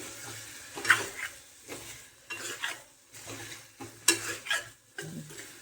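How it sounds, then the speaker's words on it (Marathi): Fresh eggplant sizzles in hot oil in a home kitchen while a spoon stirs it, giving soft hissing and scraping strokes with a few sharp metal taps, close and fairly quiet. "आणि जरा तेलात पडवू द्यायची लगेच पाणी नाही टाकायचं"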